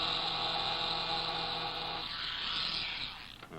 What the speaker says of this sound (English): What I'm going to do is take this old-fashioned type of electric shaver and hold it against that velvet.